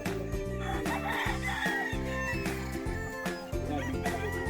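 A Sweater Boston Bullet gamefowl rooster at a game farm in Bustos, Bulacan, among a busy chorus of crowing and clucking birds, loud and layered without pause.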